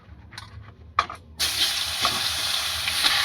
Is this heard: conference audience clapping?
no